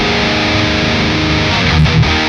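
An electric guitar played through an Orange Rockerverb amp with the gain maxed roars with thick, saturated distortion, one loud, sustained chord with hiss and a slight shift near the end.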